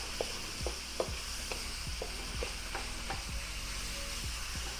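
Egg roll filling with garlic and ginger being stirred in a hot pan, a steady sizzle running underneath repeated scraping strokes of the utensil, close and fairly loud.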